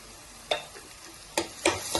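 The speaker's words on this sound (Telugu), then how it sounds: "కొంచెం ఫ్రై చేసుకున్నాం" Egg curry masala frying in a pan with turmeric, a low sizzle under a few sharp spoon scrapes and clinks against the pan, close and quiet, no voices.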